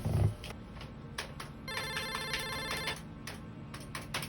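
A telephone rings repeatedly with bright electronic ringtone bursts, loud and close, with no talk over it, in a Filipino comedy scene set in a home.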